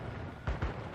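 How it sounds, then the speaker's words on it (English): Two quick low booms from torpedoes striking a ship in World of Warships, heavy muffled impacts about a tenth of a second apart over a steady game background rumble. "5 torpedoes hit, but only 2 was needed to sink it."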